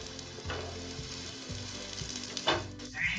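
Aloo tikkis fry in oil on a pan over medium-high flame, giving a steady close sizzle with soft crackles and a few small bumps as they shift, and no one speaking.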